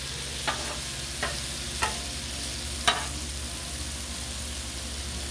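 Beef stir fry cooking on a Blackstone griddle: a loud, continuous sizzle with a few sharp spatula scrapes or taps spaced through it, close and alone without voices.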